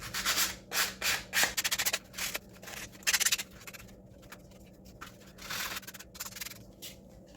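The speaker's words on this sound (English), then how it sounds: "I think this needs a little distressing maybe. Let's bring in my sandpaper." Sandpaper rubbed over a scrapbook page to distress its edges, a series of close, dry, rasping strokes in uneven bursts with short pauses between them.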